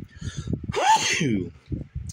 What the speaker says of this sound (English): For some reason, coffee makes me sneeze.